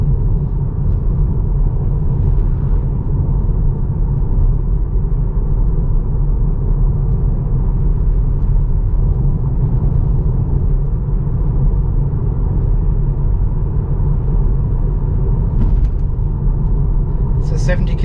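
A car coasts along a sunny 70 km/h road in Australia, giving a steady low rumble of tyres and road noise that continues without a break, with a faint click near the end.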